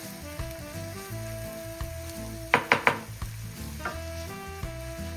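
Onion and garlic sear in a pan ahead of ground beef for a beef and pasta casserole, giving a continuous sizzle over a low hum, with a quick cluster of three sharp clanks from the utensil near the middle and no voices.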